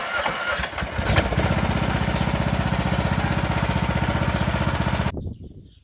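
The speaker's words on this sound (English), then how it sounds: "We learned how to use this lawnmower so we can now cut the grass." A school lawn mower engine chugs loudly and steadily for several seconds with a rapid pulsing rhythm, then cuts off abruptly, leaving quiet.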